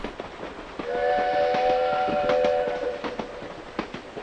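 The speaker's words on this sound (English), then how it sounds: "we'll hear a steam train go through town as it would have happened, 40, 50 years ago" A steam train passing through a town rumbles along with rhythmic chuffing and clanking while a shrill whistle sounds for a couple of seconds, fairly close.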